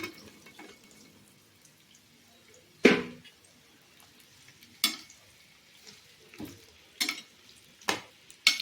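Garlic and mango pieces being sautéed in a pan for pickle give a faint sizzle, broken by several sharp scraping and stirring knocks spaced a second or two apart.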